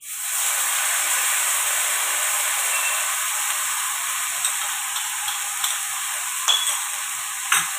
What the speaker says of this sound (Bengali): এখানে বড়িগুলোকে ভেজে নিচ্ছি